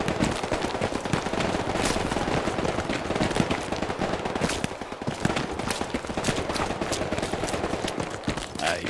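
Gunfire in Hell Let Loose, rapid bursts of rifle and machine-gun shots crackling continuously at close and middle distance, dense and loud throughout, with no one talking.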